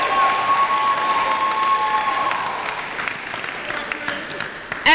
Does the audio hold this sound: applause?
yes